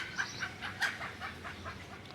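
Native chickens clucking nearby, several short soft clucks in quick succession, faint and brief with no talk.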